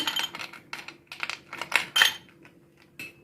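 Ice cubes clink and rattle into a glass for a mango squash drink, a run of close, bright knocks and tinkles of uneven rhythm that taper off into a final small clink.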